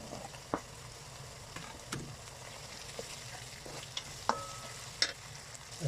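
Spices and green chili sizzle and crackle steadily in mustard oil in a pan, with scattered sharp pops and occasional stirring clatter, no voices.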